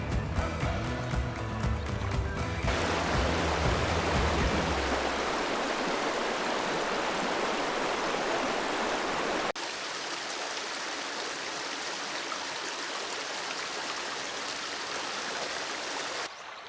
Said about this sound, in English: I decided to spend 3 days sitting and listening to the river tell its story